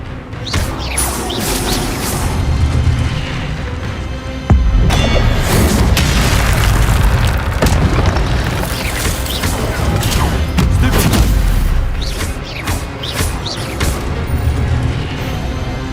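Spell-casting blasts in Hogwarts Legacy on PS5, a loud booming, crashing barrage with repeated bursts and impacts over a steady heavy rumble, carrying on throughout.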